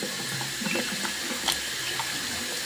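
Water runs steadily from a household tap into a sink, a continuous close hiss and splash with no voices.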